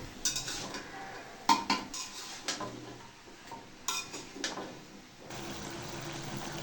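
Vegetables and spices are stirred together in a pan, a metal spoon scraping and clanking against the pan in irregular bursts with quieter gaps, followed by a soft steady sizzle, close and without talk.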